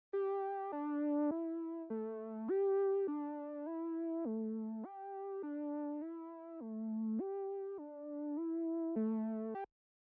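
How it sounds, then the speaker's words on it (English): A retro synth in Logic Pro X plays a solo line of sustained, buzzy notes that step up and down in a relaxed afrobeat-style phrase, soft and even, with nothing else underneath. "I used another retro synth and on its own it sounds like this."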